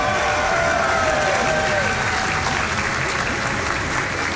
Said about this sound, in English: At this point, you can clap.